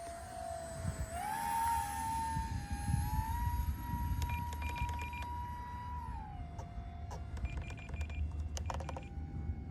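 An electric motor on a Stryker FPV model plane whines steadily in flight, its pitch climbing, holding high, then dropping back, with wind noise underneath and some brief clicks partway through.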